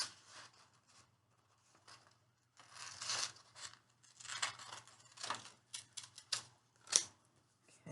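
Scissors cut out a paper triangle for a children's craft, a series of quiet, close snips and paper crunches in irregular bursts with pauses between, no talk.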